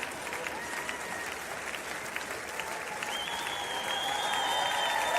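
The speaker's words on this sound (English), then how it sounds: "But huge cheers going up." Loud crowd cheering and applause at an FEI Youth Equestrian Games team final show-jumping round in Aachen, a dense continuous roar that swells toward the end, with a few whistles rising above it.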